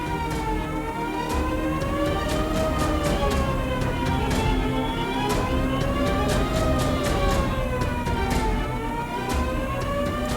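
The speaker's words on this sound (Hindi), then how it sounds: "सायरन की आवाज, मतलब भूचाल आने की चेतावनी।" A wailing warning siren rises and falls in slow repeating sweeps, loud and continuous, sounding an alert over a steady background rumble with no talking.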